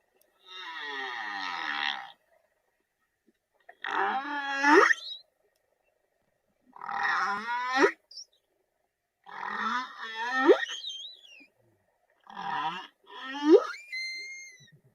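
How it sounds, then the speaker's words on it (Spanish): Whale calls from an animated film about fish: five long, moaning, wavering tonal calls with rising and falling pitch, separated by pauses of silence, clear and fairly loud with no talking. "Es la ballena"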